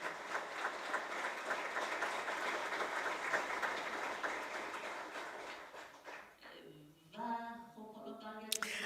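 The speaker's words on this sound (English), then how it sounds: "Please, let's applaud Mr. Taqi Rahmani, husband of Narges Mohammadi." Audience applause at a Nobel Peace conference honoring a woman's-life-freedom cause, a sustained dense wash of clapping from a large hall that fades out near the end as a tonal sound rises.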